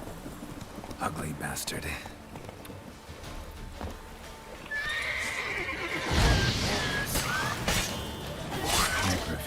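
Roach, the horse in the video game The Witcher 3, clops along at pace, then lets out a loud, drawn-out whinny midway through, with game ambience around it and someone speaking briefly.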